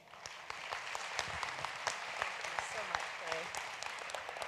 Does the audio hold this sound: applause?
yes